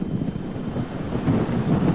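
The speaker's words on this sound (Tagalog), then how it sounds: "Ang mga puno walang tigil sa pagsayaw sa saliw ng humuhuning hangin ni Lawin" Strong typhoon Lawin wind buffeting the coast of Cagayan, a steady loud low roar with gusts swelling toward the end, no voices.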